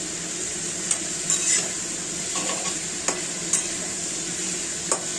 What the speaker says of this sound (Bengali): মাখানো হয়ে গেলে একটু মাখিয়ে নিচ্ছি।